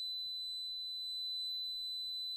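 A DSC security system keypad emits a sustained high-pitched entry-delay beep, steady and unbroken throughout, with no voices over it.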